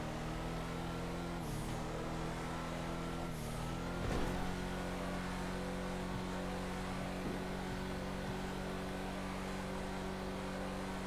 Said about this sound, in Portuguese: Vou testar um carro que o cara falou que dá 300 aqui.